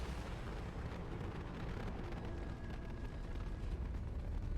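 A rumbling explosion in the video game Mass Effect 2, heard as a dense, sustained low roar that fills the whole stretch at moderate loudness with no speech over it.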